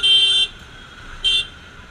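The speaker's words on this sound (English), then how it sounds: "And there will be constant honking for sure." Two short electronic car horn blasts in Bangalore traffic, the first about half a second long and the second briefer, sounding fairly close over a low background hum.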